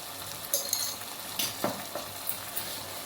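Tomatoes frying in a pan for a tomato pickle, with soft sizzling and scattered stirring scrapes and light utensil clinks, fairly close and with no voices.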